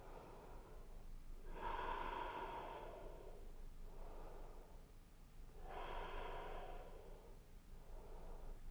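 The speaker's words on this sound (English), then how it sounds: "Take about 5 breaths here." Slow, deep breaths during a yoga stretch focused on the hips. Two long inhale-exhale cycles rise and fall steadily, close and clear, with no talking over them.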